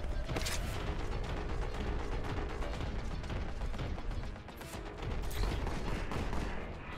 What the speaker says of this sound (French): Il y un mec qui tire.